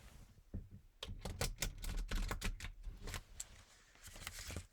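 A quick series of crisp, fluttering clicks and riffles as playing cards are shuffled nearby, fairly faint, in a few rapid bursts.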